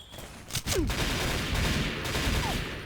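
Sniper rifle fire in the online shooter XSHOT: a couple of sharp, loud reports early on, followed by continuous battle noise and distant gunfire, with no one speaking.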